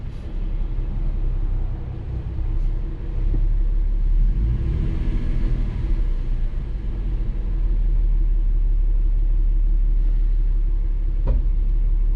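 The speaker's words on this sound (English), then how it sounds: "And here's with the AC and the compressor engaged." Nissan Xterra truck idling with a newly installed AC compressor engaged, a steady low engine rumble that holds evenly throughout, close and alone with no talk.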